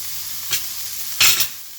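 Vegetables, mushrooms, chickpeas and black beans being stirred in a hot pan, giving two short bursts of sizzling and scraping, the second louder and longer, over a faint steady background hum.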